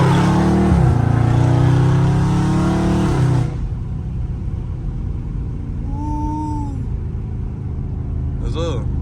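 Dodge Scat Pack V8 in traffic, a loud rising engine roar as the car accelerates hard from a rolling start, then cutting off abruptly, with a lower rumble and brief horn-like tones afterward; people talk over the engine.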